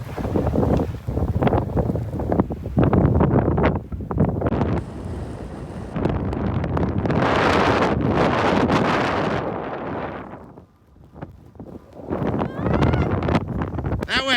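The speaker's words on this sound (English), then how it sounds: "What a day for a blizzard." Strong blizzard wind blowing about 50 miles an hour on Mount Mansfield, Vermont during a ski day, roaring and buffeting the microphone almost continuously, dipping briefly near the end, with a voice talking under it.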